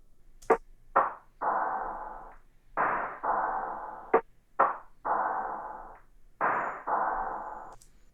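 A slowed, low drum percussion loop with a halftime effect: sharp knocks alternating with longer smeared, droning hits that ring out, repeating in a slow, heavy pattern with no talking.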